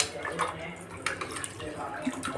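Water is poured into a pressure cooker holding frying rice and tomato pieces, a splashing, gurgling pour with hissing bursts, while someone talks over it.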